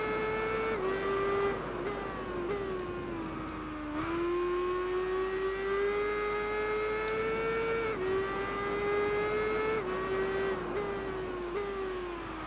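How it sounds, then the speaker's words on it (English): An MV Agusta F4 1000S motorcycle engine in the Tourist Trophy racing game wails at high revs, with several sharp dips and climbs as it shifts gears, loud and continuous with no talk over it. "this time our bike is a MV Augusta... Augusta F4 1000S"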